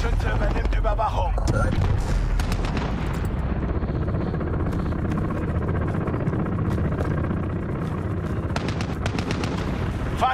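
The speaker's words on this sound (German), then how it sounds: "Verbündeter Helikopterschütze übernimmt Überwachung." Intense combat soundscape from the video game Call of Duty: Modern Warfare as an allied helicopter gunner provides cover, with dense continuous gunfire and explosions filling the scene, loud and unbroken throughout.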